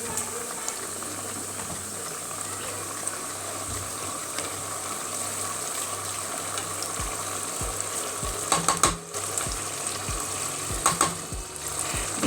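Blended peppers sizzle and bubble steadily in a pan for Ayamase stew, a constant close frying hiss with occasional spoon scrapes and clinks, no talking.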